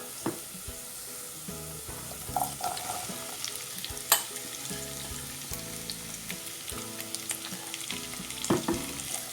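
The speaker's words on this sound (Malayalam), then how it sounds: "ഇനി ഇതിലേക്ക് സവാള ചേർത്ത് കൊടുക്കണം." Chopped onion cubes fry with garlic and ginger in a pan for egg chilli, making a dense, steady sizzle with occasional spatula taps and one sharp clack, no voices.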